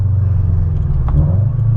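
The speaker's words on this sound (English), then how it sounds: "Oh, it's such a good downshift." Subaru BRZ with a JDL unequal length header exhaust, a deep, loud, steady rumble from close by, one brief blip near the middle as it downshifts, no talking.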